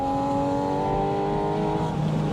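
A Porsche 718 Spyder RS with a PDK gearbox from the 991.2 GT3 pulls hard with a steady, high, tonal engine note, close and loud inside the car, holding one brief gear without a clear shift.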